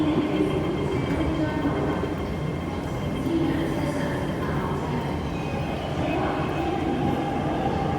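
A metro train rumbles through Tai Koo station with a continuous, fairly loud rolling roar and faint wheel squeal that carries on for about eight seconds.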